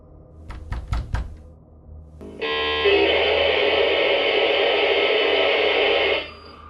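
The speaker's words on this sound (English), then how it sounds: "the audio still captures something that sounds like it's being wound tightly, and then later some knocking and warped sounds like the tuning of a radio" Knocking picked up on a CCTV camera: a quick run of several sharp raps, then after a pause a loud, steady, warped whine like a radio being tuned that holds for about four seconds before cutting off.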